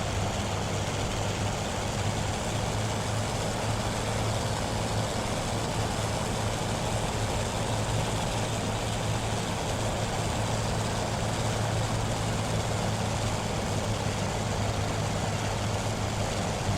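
A Curtiss P-40F Warhawk propeller engine in Microsoft Flight Simulator drones steadily on long final with flaps and gear down, a constant loud low hum with no variation or talking.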